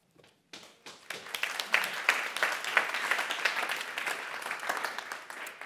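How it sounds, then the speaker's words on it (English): A festival audience applauds after a video talk, starting with a few scattered claps that quickly swell into fairly quiet, sustained clapping from many hands. "I always really like when we clap for a video."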